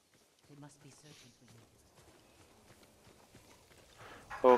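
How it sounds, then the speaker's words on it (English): Horses run off in the video game Ghost of Tsushima, a brief clatter of hooves fading into the distance under quiet game ambience, with speech heard at times. "Bastards scared off the horses."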